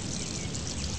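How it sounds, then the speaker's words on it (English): Liquid pours in a continuous, steady stream as a game character urinates on someone, a dense hissing splash that holds at an even level throughout, with no talking. "he's gonna keep peeing on people now"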